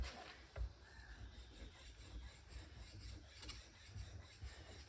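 Metal parts from a Dana 60 axle re-gear, soaked in grease, are worked with a hand file in a garage. A steady, faint raspy scraping continues throughout, with a soft low rumble under it and no talking.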